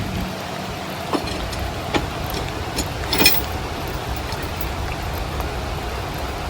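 Steady rain falls outdoors around someone working barefoot to disconnect equipment in the rain, a constant broadband hiss with scattered ticks and patters of drops and one brief louder rattle midway, fairly close, with no talk.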